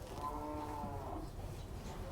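A calf at a cattle market moos loudly and close by in one drawn-out call for its mother, standing out clearly over low market background noise.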